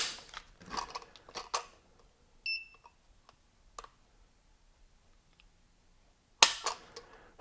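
Dry-fire trigger pull test on a Walther PPQ pistol: a few sharp, isolated clicks spaced across several seconds of near silence, with one louder snap toward the end.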